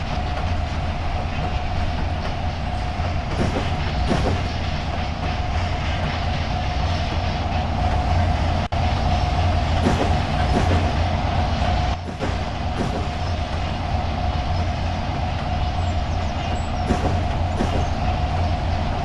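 A long freight train in the Trainz 19 simulator rolls steadily past, its continuous loud rumble and rail hum broken by periodic clickety-clack of wheels over joints, with no voices.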